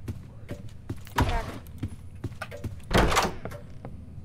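A door in the horror video game Doors being checked, giving two dull thuds about two seconds apart, fairly close and moderately loud over low background noise.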